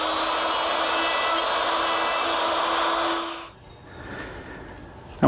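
Dovetail pins are cut in a drawer front held in a jig, producing a steady loud high whine with a hissing edge for a few seconds before it winds down to quiet.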